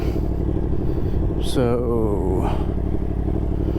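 A 2023 Yamaha MT-10 motorcycle is ridden in Louisiana, a steady close engine drone with a brief rising rev in the middle while someone speaks over it.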